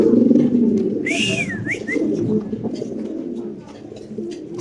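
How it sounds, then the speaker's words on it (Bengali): A Lahori pigeon coos in low, throaty pulses, close and clear in a pigeon loft, with a brief rising-and-falling whistle from another bird partway through. "কবুতর ডাকটা একটু দর্শকদের দেখাই দিই"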